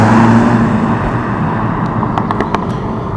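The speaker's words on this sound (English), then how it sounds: "we've chucked it in Cupra just to give us a quick blast down the road." A 2017 SEAT Cupra Leon 300, front-wheel drive, pushed hard in Cupra mode down a road: loud sustained engine drone with road and wind roar, a few brief clicks near the end.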